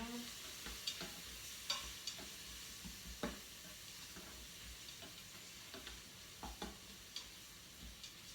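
Garlic sautés in an Instant Pot, making a quiet, steady sizzle punctuated by scattered light scrapes and clicks as it is stirred.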